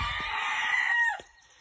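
A chicken crows with a loud, drawn-out call that holds steady for about a second and then drops away abruptly, leaving near silence.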